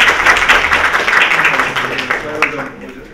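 Audience applause at a symposium on agricultural and forestry history, a steady wash of clapping from a crowd that tapers off toward the end.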